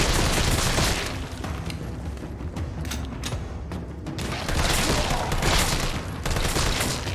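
Rapid bursts of gunfire from the Resident Evil 3 Remake video game, loud and dense with overlapping shots and brief lulls throughout.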